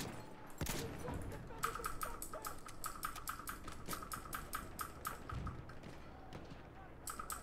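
Rapid bursts of gunfire from a gun in Battlefield 1, a dense string of quick, crisp shots after a single louder blast, all fairly faint in the mix.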